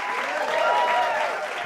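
A brief burst of dense crowd applause, loud and close, with a faint murmur of voices underneath.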